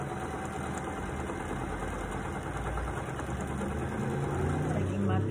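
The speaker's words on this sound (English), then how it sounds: "I'm going to sew a 1/4 inch seam allowance down this whole strip" A sewing machine runs steadily while stitching a quarter-inch seam down a strip of quilt fabric, producing a continuous, even motor hum with no pauses.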